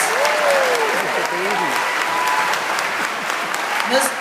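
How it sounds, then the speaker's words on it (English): An audience at an alumni band event applauds, a dense, even wash of clapping held throughout while someone speaks over it. "Big round of applause, 1976."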